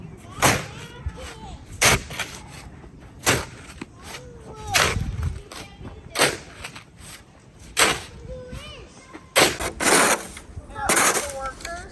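Clearing out a snowy campsite fire pit in winter brings a dozen or so sharp, loud scraping and knocking impacts spaced irregularly about a second apart, with brief shuffling and small clatters between them.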